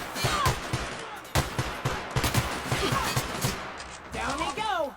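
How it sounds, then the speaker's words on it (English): A machine gun fires in The Outer Worlds in several close bursts of rapid shots separated by short gaps, mixed with game effects and a voice speaking briefly. "The machine gun really melts him down."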